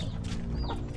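Backyard farm chickens cluck in a brief, close burst of several soft calls over a steady low hum, with no one speaking.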